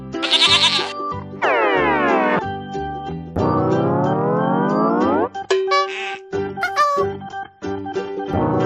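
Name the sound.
sheep bleating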